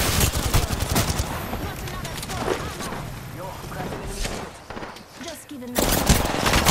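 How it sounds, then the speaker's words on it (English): Rapid automatic gunfire in a multiplayer shooter video game, sustained bursts of loud close shots with short pauses, an intense stretch near the end, over busy in-game noise. "he's like literally shooting through the rocks"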